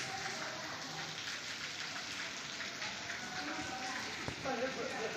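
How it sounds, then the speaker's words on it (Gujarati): Steady rain hiss fills the scene, a broad wash of falling drops with a few soft knocks and faint voices underneath. "વરસાદ ચાલુ હોય"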